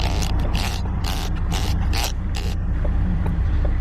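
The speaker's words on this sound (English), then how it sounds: "Sorry if you guys hear that, I'm trying to zoom." A camera lens zoom mechanism whirs and clicks in several short bursts over a steady, loud background rumble, then goes quiet near the end.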